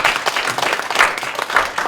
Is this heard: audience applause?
yes